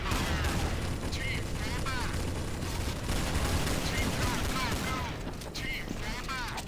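Rapid gunfire in a zombie video game, dense and continuous across the whole stretch, with bursts and sharp cracks layered over steady in-game noise while a voice talks over it.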